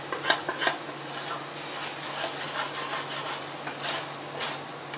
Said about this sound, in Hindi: इसको लगातार चलाते रहना है, नहीं तो जल जाएगा।